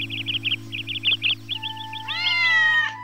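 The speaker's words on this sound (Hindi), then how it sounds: "एक दिन एक काली बिल्ली आई" A black cat gives a quick series of short, high meows, then a longer drawn-out meow, clear and close over a steady low hum.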